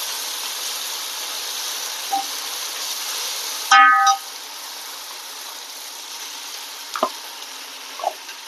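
Ginger garlic paste fries with onions, spices and chicken for a basmati pulao. A steady, close sizzle hisses throughout, broken by a short loud burst as more goes into the pan and a few faint knocks.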